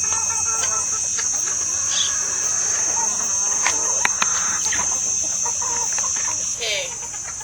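Chickens cluck and squawk inside a chicken house, with many overlapping calls at varying distances over a steady high hum and a bed of crickets, and no clear talking.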